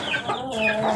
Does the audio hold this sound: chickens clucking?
yes